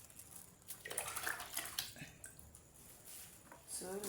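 Water poured into a homemade transparent multipurpose liquid soap mixture, a splashing, gurgling pour of about two liters that swells and fades in bursts, fairly close, with no talking.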